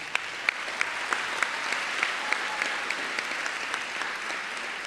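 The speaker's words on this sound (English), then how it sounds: "how about a round of applause for the parents that have supported all of us throughout our high school journey?" Crowd at a high school graduation ceremony applauds the parents, a continuous soft patter of many hands heard from a distance, with a few sharper, closer claps standing out.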